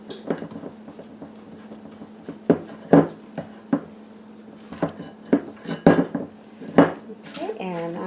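A spoon scrapes and knocks against a bowl while macadamia nut white chocolate chip cookie dough is stirred by hand, making irregular clinks and thuds close by over a low steady hum, with a voice briefly at the end.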